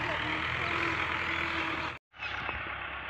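Tractor engine running steadily in a rural setting, a low rumbling drone that cuts out abruptly for a moment and then resumes, with a faint voice over it.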